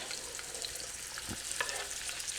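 Chopped onions, garlic and peppers hit a hot pan and sizzle steadily, a close frying hiss with a few soft stirring scrapes and clicks.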